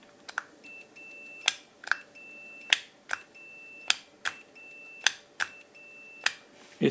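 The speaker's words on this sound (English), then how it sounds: "It beeps when pushing. So the switch is okay." A multimeter gives short, sharp beeps each time a step relay's push switch is pressed, about a dozen in an irregular rhythm over seven seconds, each with a click, heard close and alone against a quiet background.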